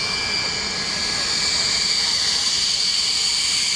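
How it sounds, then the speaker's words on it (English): An aircraft passes overhead with a loud, steady jet roar and a high whine that swells slightly, filling the whole moment as it goes over. "You see the aircraft. It goes over"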